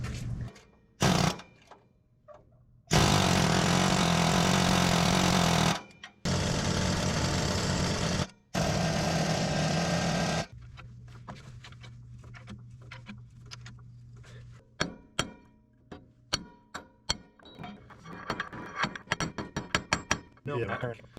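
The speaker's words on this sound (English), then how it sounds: "Let's try an air hammer this time." Loud bursts of rapid pneumatic air hammering on track adjuster springs, several seconds each with short pauses, followed by scattered clanks and ticking of metal work.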